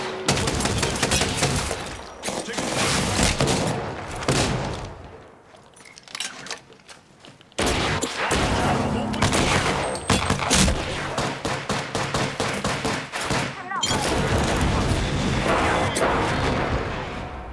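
Apex Legends gunfire in bursts, loud rapid shots and booming reports in dense volleys, broken by a brief quieter lull before the shooting resumes.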